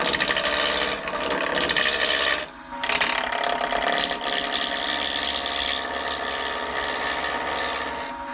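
An epoxy resin pen blank turned on a lathe with a spindle roughing gouge, a loud continuous rasping cut with a whirring mechanical drone, briefly dipping mid-pass before resuming steadily, with no talk.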